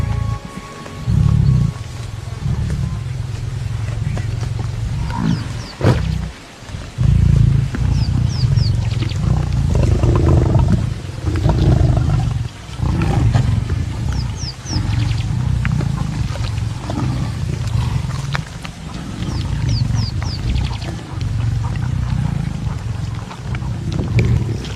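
Several lions roar and growl over a heavy prey kill in the wild. Deep, loud, overlapping rumbles and snarls carry on almost without a break, close by.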